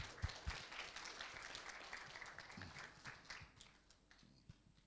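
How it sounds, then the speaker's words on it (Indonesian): Audience applause after a five-speaker renewable energy panel discussion on bioenergy and waste, a steady wash of many hands clapping in a hall that thins slightly toward the end. "Mari kita berikan aplaus untuk mereka."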